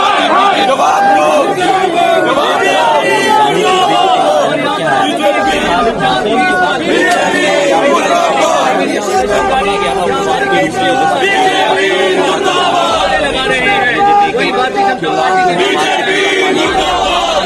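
A crowd at a political demonstration shouts slogans together, a loud, dense wall of overlapping voices and rhythmic chanting that never lets up.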